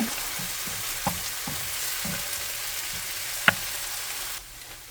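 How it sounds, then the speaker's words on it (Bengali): Kimchi, juicy and freshly made, frying in a pan for kimchi fried rice, giving a steady close sizzle with a few soft stirring scrapes and one sharp clink, then quieter near the end. "এখন একটু ভাজা দিব"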